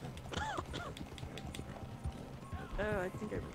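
Horse hooves clip-clop in the Red Dead Online video game, a rhythmic gait moving close by under ongoing talk, with a brief whinny partway through.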